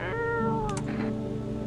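A cat meows once in the horror video game No I'm Not A Human, a clear drawn-out falling meow heard alone up close, followed by a couple of soft clicks.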